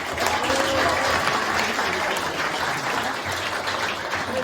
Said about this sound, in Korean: 힘찬 박수 좀 보내주십시오